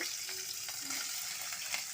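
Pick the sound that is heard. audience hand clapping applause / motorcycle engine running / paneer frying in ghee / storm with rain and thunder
paneer frying in ghee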